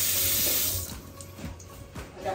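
Water gushes from a kitchen faucet into a sink, loud at first, then drops to a lighter trickle with a few splashes.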